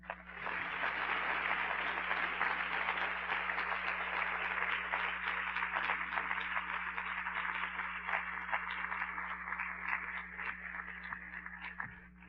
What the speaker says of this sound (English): So without further ado, clap it up for Dr.